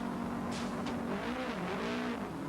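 A Holden Commodore touring car engine from a 1986 race, a continuous high revving tone that rises and falls as the car accelerates, with quick passing bursts early on.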